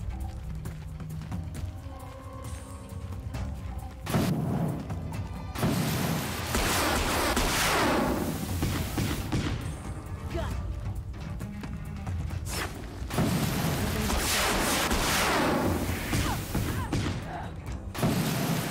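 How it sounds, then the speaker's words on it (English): Firework weapon shots in the video game Horizon Zero Dawn: repeated loud bursts and crackling blasts in rapid volleys, with dense explosive booms filling most of the stretch and a brief lull between barrages. "I'm literally shooting fireworks at people."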